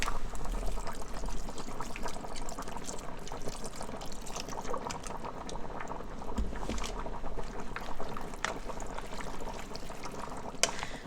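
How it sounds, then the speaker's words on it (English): Vegetable beef soup being made as V8 juice pours steadily into the pot of vegetables, a continuous close liquid gurgle and splash with a few clanks, no talking. "You're going to add some V8 juice."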